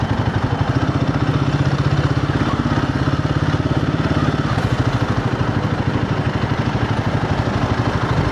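Royal Enfield Guerrilla 450 motorcycle engine running close by in town, a loud, even, fast-pulsing idle thrum that holds steady throughout with no speech over it.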